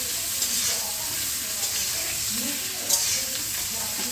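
Potato and pointed gourd frying in oil with fenugreek seeds, giving a steady close sizzle with faint stirring scrapes and no talk.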